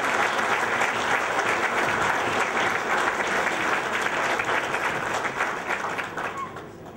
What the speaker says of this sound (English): A very generous round of applause, please.